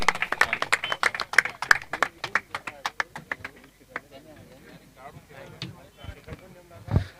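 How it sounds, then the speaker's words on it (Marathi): An audience applauds at a cricket tournament prize distribution, with sharp, rapid claps over the first few seconds that thin into scattered claps and shuffling, while someone speaks over the room. "नीलकंठ साठी जोरदार टाळ्या होतात मित्रांनो"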